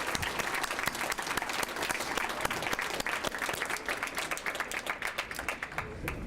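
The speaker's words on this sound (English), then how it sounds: "Let's give them a huge round of applause." A gala crowd at the Leaders of Tomorrow awards applauds youth award winners, a continuous wash of many hands clapping at moderate volume, thinning slightly toward the end with individual claps becoming more distinct.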